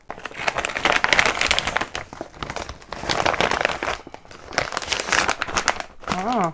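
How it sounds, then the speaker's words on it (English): A plastic refill bag for 3D printer filament crinkles and rustles up close in several handled bursts, with a brief voice sound near the end. "This is the bag."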